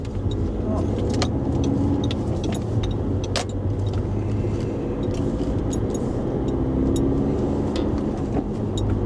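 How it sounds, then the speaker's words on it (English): Road traffic on a busy half-term day near Ipswich, heard from inside a moving vehicle: a steady engine and road drone with scattered sharp clicks and rattles and occasional swells of passing cars. "A lot of traffic"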